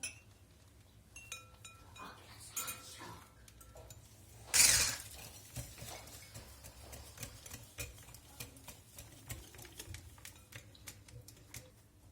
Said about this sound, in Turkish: 3 yumurtam, 1 su bardağı toz şeker. Bunları iyice çırpıyoruz arkadaşlar.